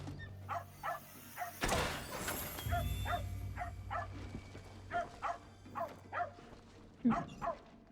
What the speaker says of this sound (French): Oh, petit chien!